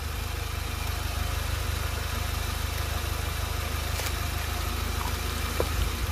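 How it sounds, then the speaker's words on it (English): A stock, unmodified Mitsubishi Mirage engine on its original injectors idles in a steady, low, even rumble, close up and continuous with no talk. "So that's just idling and stock injectors. It's a stock engine,"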